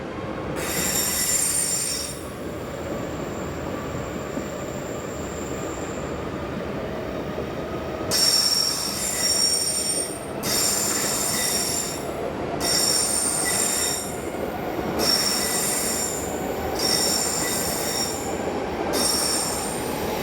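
BLS car shuttle train departing toward Goppenstein, pushed from the rear by locomotive 176, with loud sustained wheel squeal in repeated bursts over a steady rolling rumble, no voices.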